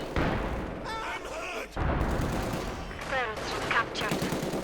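Rocket and mortar fire in the World War II strategy game Company of Heroes 2, rapid dense bursts and booms under a clipped game voice and a caster talking over the action.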